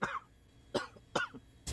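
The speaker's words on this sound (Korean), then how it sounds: "감기에 걸려서 기침이 자꾸 나오네요" Four quiet coughs in quick succession, spaced about half a second apart, soft and nearby.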